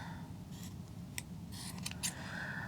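Scissors snip the corners of a fabric eyeglass case, giving a few short, crisp cuts spaced over a couple of seconds against a low background hum, close and moderately quiet.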